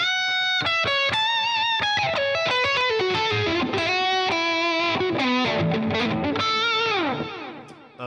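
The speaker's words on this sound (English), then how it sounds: "maybe kick on a tube screamer for more of a lead sound." Electric guitar through a Tube Screamer overdrive pedal with a warm overdriven tone plays a flowing lead line of sustained notes and quick runs, loud and continuous, fading out at the end.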